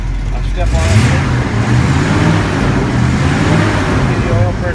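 A 1956 Chevy 3100 pickup engine revs up close and steadily with a low, continuous rumble, with someone talking over it.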